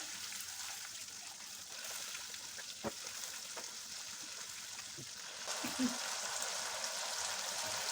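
Papaya kofta curry mixture with sour yogurt frying in a pan, a steady soft sizzle throughout with occasional spoon scrapes and taps as it is stirred, close but fairly quiet.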